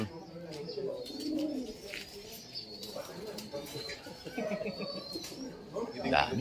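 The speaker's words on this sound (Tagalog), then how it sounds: "daming ibon." Pigeons in a breeding loft coo softly and steadily throughout, with a few chirps mixed in, while people talk nearby.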